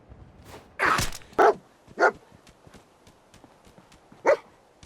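Dogmeat, a dog companion in a video game, lets out a cluster of four loud, close barks, the first longer, then three short ones spaced apart, over soft ambient noise.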